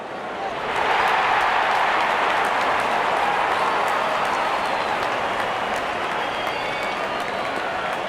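Applause and cheering from a sizeable crowd at a five-over India versus England cricket match as the openers walk out, a broad steady roar of clapping that swells after the first second and holds throughout.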